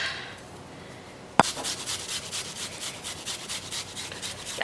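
Food rubbed against a hand grater in steady, rapid scraping strokes, fairly close and continuous after a sharp initial knock, with no talking.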